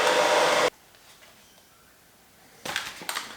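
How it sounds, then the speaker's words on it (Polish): A handheld hair dryer warms adhesive stickers before a camera is mounted. It blows loud and steady for under a second, cuts out to near silence, then starts again with a rougher, uneven roar. "mam nadzieję, że suszarka wystarczy. Jeszcze to tutaj troszeczkę podgrzeję"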